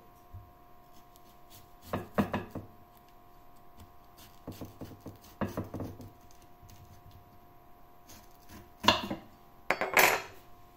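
A homegrown bitter gourd (ampalaya) is cut in half with a knife, heard as a few separated bursts of cutting and clattering knocks against a board or dish, moderately close. No one talks.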